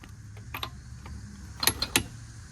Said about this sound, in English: That first lug nut that I tightened, it clicked right away.